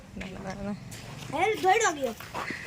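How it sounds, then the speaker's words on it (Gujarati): Several small puppies whimper and yelp in short rising-falling cries at close range, clustered in quick bursts over faint background noise, at a riverside temple ghat. "કેટલા બધા ગલુડિયા છે જો"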